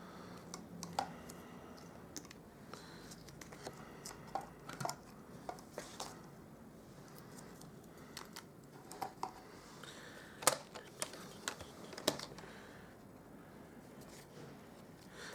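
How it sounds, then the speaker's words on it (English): Paper is trimmed on a paper trimmer during card making, giving faint, close, irregular clicks and soft cutting ticks spread over several seconds in a quiet room. "I'm going to trim that off, trim that down"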